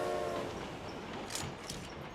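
A passing train in the video game PUBG Mobile gives a steady rumbling roar with a brief horn-like tone at the start, fading slightly as it moves on.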